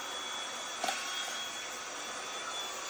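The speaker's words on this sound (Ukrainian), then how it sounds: "Автомобільний пилосос два в одному. Акумуляторний з насадками." A cordless two-in-one car vacuum cleaner with attachments runs with a steady airy whine and hiss, quiet and constant, with one small click early on.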